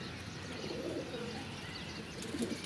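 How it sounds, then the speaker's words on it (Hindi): A racing pigeon coos on a rooftop pigeon loft, two soft, low, rounded coos separated by a quiet pause over light background hiss, faint and unaccompanied by talk. "ये रेसर कबूतर है,"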